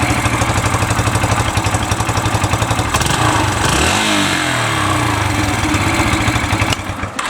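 A Yamaha YBR125 motorcycle engine with a holed exhaust revs loud and close, its rapid throb stumbling and misfiring, then rising and falling through a blip of throttle before settling back to a ragged idle.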